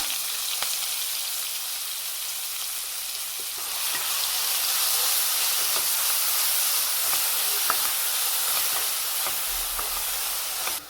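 Onions with mustard seeds, fenugreek and curry leaves frying in hot oil for an egg curry, a steady loud sizzle and hiss that swells after a few seconds and continues with faint scattered crackles.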